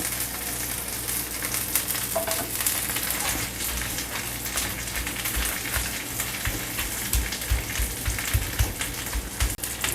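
Loud crackling sizzle of hot oil from a freshly fried egg, continuous and close, with soft thuds and pressing sounds underneath as the egg is pressed into sambal.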